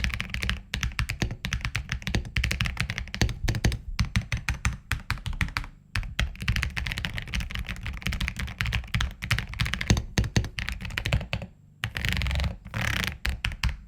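Steady, fast typing on a linear mechanical keyboard, dense key clacks and thocks close to the microphone, with two brief pauses, no talking.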